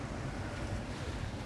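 Steady low wind rumbling outdoors against the microphone during a tasting of Sterling blonde beer, a continuous buffeting roar with no clear gaps.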